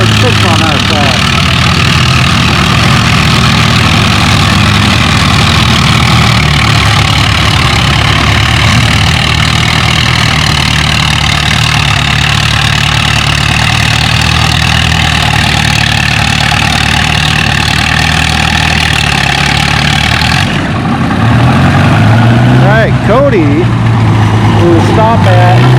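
A pulling tractor engine roaring at full load while hauling the big sled at a tractor pull event, a loud continuous heavy drone with rising revs near the end, under an announcer's voice.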